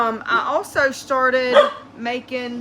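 A pet dog barks in short bursts in a home setting, the yaps rising clearly over a person talking nearby throughout.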